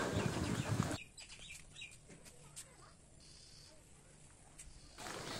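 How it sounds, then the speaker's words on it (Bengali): Birds call outdoors among fruit trees, chirps and short calls scattered over a quiet background between louder rustling bursts at the start and end. "শুনুন পাখির আওয়াজটা।"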